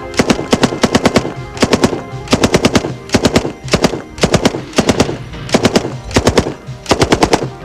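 An M60 machine gun firing belt-fed 7.62 NATO rounds lets off loud, close bursts of about four to six shots each, with short pauses between bursts and no talk.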